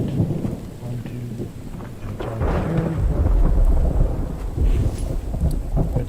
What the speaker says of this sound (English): It's raining, and we're going to need these before long.